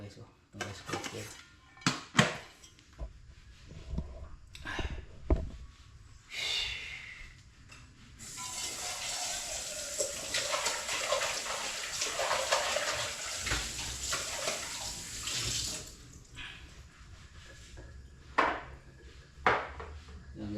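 A rice cooker pot gets washed at home, with metallic clanks and scrapes, then a long stretch of running water splashing into the pot, and scattered knocks afterward.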